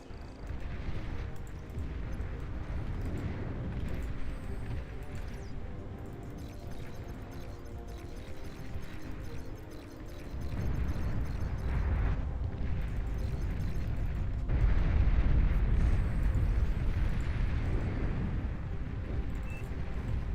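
Deep rumbling launch roar of a nuclear missile in the strategy game Beyond All Reason, a sustained loud low-heavy blast that swells midway and stays dense throughout, with no talk over it.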